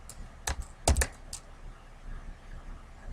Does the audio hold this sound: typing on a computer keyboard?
yes